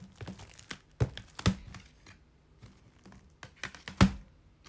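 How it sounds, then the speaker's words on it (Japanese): Package of photo prints being opened by hand, with crinkling plastic and paper rustles in short irregular bursts and a few sharper tearing snaps, close and fairly quiet. "こちらが届いたので開封しようと思います。"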